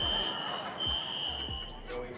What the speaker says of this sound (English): So we set off the alarms.